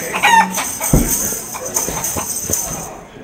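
Clucking and crowing chicken sounds in a film scene, a busy run of loud, close, repeated calls with overlapping background noise and faint voices.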